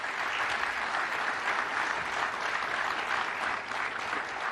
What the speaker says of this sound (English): Would you mind giving him a round of applause?